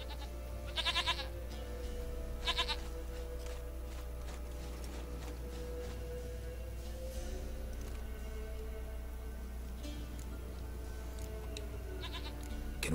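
Goat bleating in The Witcher 3 video game, a few short wavering bleats near the start and again around two and a half seconds, heard over a steady low game soundscape and music bed.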